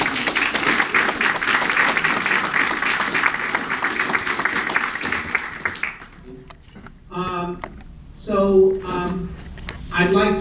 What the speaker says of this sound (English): please give him a warm round of applause as we welcome Mr. Robert Zubrin.